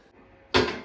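A home refrigerator door opens or shuts with a single sudden thump and rattle in a kitchen, close and brief after a quiet moment, with no voices.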